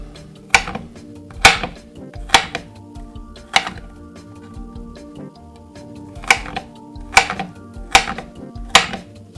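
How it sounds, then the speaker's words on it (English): Ham, onion and potato being chopped with a knife on a board for a breakfast dish, about nine crisp, sharp knocks at an uneven, unhurried pace against a low background hum. "chop it up like that"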